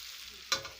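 Hot oil sizzles in a pan as jalphai (olive) pickle is fried, a faint steady hiss that jumps into two loud sputtering bursts near the end, with no one talking.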